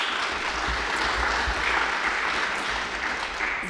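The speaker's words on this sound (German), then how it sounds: "Applaus" Steady audience applause welcomes a guest professor to a lecture on Second World War memory in Belarus, a dense, even wash of many hands clapping throughout, fairly loud and continuous with no talk over it.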